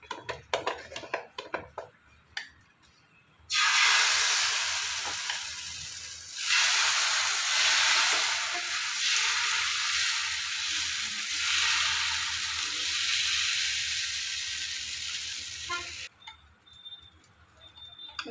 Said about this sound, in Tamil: இப்போ நம்ம முடக்கத்தான் தோசையை ஊற்ற போகிறோம்.